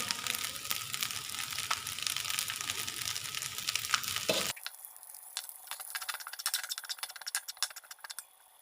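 Cooked rice for Thai egg fried rice sizzles and rattles in a hot pan, a steady bright frying hiss with scraping stirs that drops in body halfway through as the pan noise thins to crackling.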